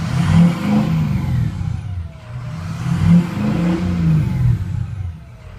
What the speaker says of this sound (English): It's got a cool exhaust sound. Let me give it some gas here.